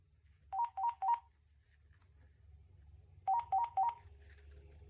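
An AT&T E6014B cordless phone handset locator tone plays as two bursts of three short, bright, warbling beeps, separated by a pause of about two seconds, over a low steady hum.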